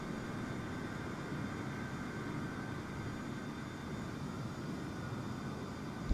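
A large airliner, an A320neo, rolls out after landing in Microsoft Flight Simulator, giving a steady, faint broadband engine roar with no talking.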